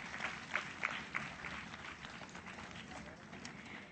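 Scattered, thin applause from a conference audience at a closing ceremony, with a few sharper claps standing out early before it settles into a soft, steady patter.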